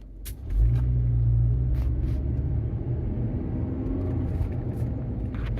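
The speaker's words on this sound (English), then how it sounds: "It looks like the differential's starting first with the noise." A low, steady drivetrain hum and road rumble from a moving Toyota RAV4, with a droning whine from a failing differential holding under the engine noise.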